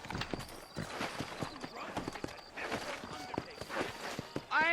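Horse hooves clip-clop at a steady walking pace in the Red Dead Redemption video game, with a snort and brief neigh-like sounds in the mix, and a voice talking over the hoofbeats.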